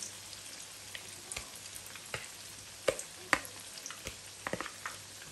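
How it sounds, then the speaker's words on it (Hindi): Pieces of Lahori-style fish fry in hot oil, giving a quiet steady sizzle with scattered sharp pops and crackles up close. "तो इसको हमने दोनों साइडों से गोल्डन फ्राई कर देना।"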